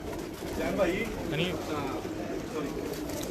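Pigeons coo softly nearby while people talk over them.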